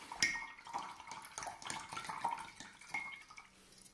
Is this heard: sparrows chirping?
no